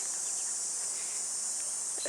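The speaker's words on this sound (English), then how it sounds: "It is morning and you can hear the cicadas." A steady, high-pitched insect drone hums continuously throughout, the sustained buzz of cicadas filling the background at moderate volume.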